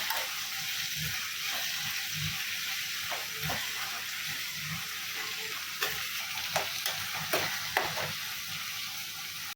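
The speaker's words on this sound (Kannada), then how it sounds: "ಈಗ ಟೊಮೊಟೊ ಬೆಂದಿದೆ ಕರಿಬೇವು ಹಾಕ್ತಾ ಇದ್ದೀನಿ" Curry leaves sizzle in cooked tomato gravy for a country-style dish, a steady frying hiss broken by repeated scraping stirs of a spoon against the pan.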